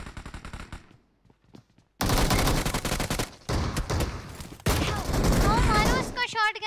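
Shotgun fire in the mobile battle-royale game PUBG Mobile comes as loud, dense bursts of rapid shots after a quieter opening, with game effects flickering at the end.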